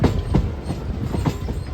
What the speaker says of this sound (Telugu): ట్రైన్ బయలుదేరింది